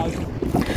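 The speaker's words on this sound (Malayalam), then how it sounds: "നല്ല തിര അടിക്കുന്നുണ്ട് കേട്ടോ" Sea waves slap against a small boat off Lakshadweep while wind buffets the microphone, a rough, uneven wash with a few heavier thumps near the end.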